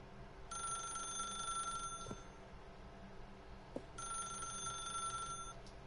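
In The Stanley Parable: Ultra Deluxe, a telephone rings in two long, bright electronic bursts separated by a pause, clear against a quiet background with a couple of soft knocks.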